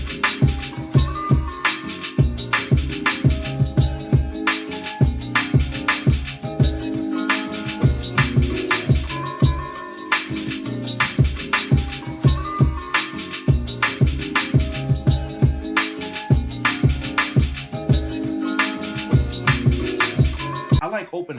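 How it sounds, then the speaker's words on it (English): A jazzy East Coast hip-hop beat loops steadily, with a punchy kick drum from an Illmind sample pack thumping in a repeating pattern under tight percussion and layered sampled sounds, loud and close with no talking. "the kick pattern goes like this"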